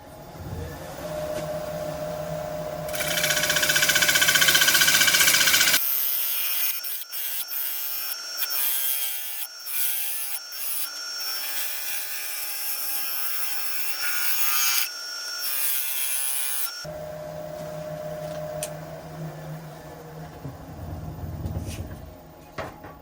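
Cedar spins on a wood lathe as a tool shapes it, giving a loud, continuous rasping hiss that shifts into a steadier whirring scrape with short breaks.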